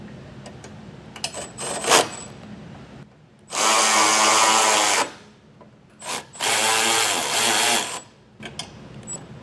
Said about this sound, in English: Now we're ready to snug all the bolts down